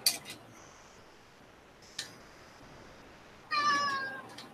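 Domestic cat meowing nearby in a home workshop during 3D printing, a short meow at the start, another brief one midway and a longer, louder drawn-out meow near the end, with quiet room tone between.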